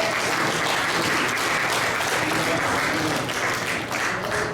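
A church congregation at a Sunday worship service claps steadily, a dense, even wash of applause from many hands that carries on throughout with no voices above it.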